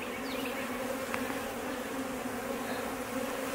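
Honeybees hum around an open, overcrowded hive being split, a dense steady drone close by with individual bees zipping past the microphone; no talking.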